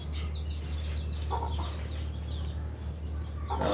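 Young chicks and hens on a poultry farm make repeated soft clucks and high peeps over a constant low mechanical hum, fairly close and steady.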